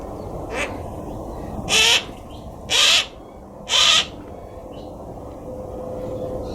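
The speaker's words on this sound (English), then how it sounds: "There's a couple of Harris hawks talking to each other." A pair of Harris hawks in an enclosure at a wildlife center call back and forth, three loud shrill cries spaced about a second apart plus a fainter one, over steady background hum.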